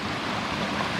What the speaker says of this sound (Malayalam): ചെറിയ ഒരു തോട് അങ്ങനെ പോകുന്നുണ്ട്